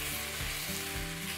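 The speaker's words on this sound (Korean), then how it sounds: "고기의 표면이 좀 하얗게 익을 때까지 좀 같이 더 볶아주세요." Meat stir-frying in a pan for curry: a loud, continuous hiss of sizzling fat with faint stirring movement, close up and uninterrupted.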